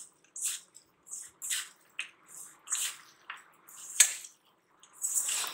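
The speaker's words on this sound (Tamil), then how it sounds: "இப்போ நல்லா மிக்ஸ் பண்ணிக்கலாம்." Potato pakoda batter with ginger-garlic paste and salt is mixed, producing a run of soft, wet squelches and squishes in an uneven rhythm, close and quiet, with short pauses between strokes and no talk.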